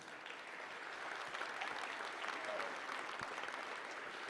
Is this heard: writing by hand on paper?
no